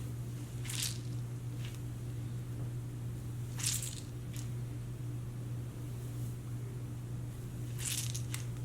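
Wet curly hair coated in cream being scrunched by hand gives a few soft, squishy squelches spaced several seconds apart over a steady low hum.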